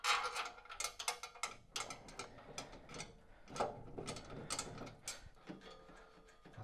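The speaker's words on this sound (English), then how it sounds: "Just while I do these bolts up here." Ratcheting clicks from bolts being tightened during treadmill assembly, a quiet, fast irregular series of mechanical ticks and pawl clicks, close and alone.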